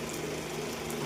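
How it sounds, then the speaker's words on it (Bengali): Water poured into a pan of simmering ghugni curry, a steady, soft gushing splash running throughout at moderate volume. "জলটা দিয়ে দিলাম।"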